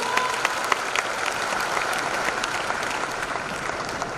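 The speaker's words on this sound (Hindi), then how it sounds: "एक जोरदार ताली तो बजाइए।" Indoor audience at an Amway diamond celebration claps loudly and continuously, a thick, even wash of applause with occasional sharper claps standing out.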